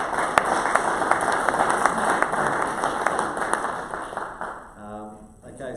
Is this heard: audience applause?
yes